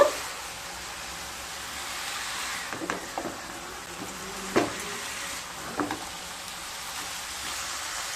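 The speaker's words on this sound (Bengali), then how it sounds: "আলুগুলো দিয়ে আবারও খুব ভালোভাবে মিশিয়ে নেব" Fried potatoes and cabbage being stirred in a pan for a vegetarian bhog-style cabbage ghonto, with a soft, steady sizzle and a few clear scraping knocks of the spoon against the pan, close by.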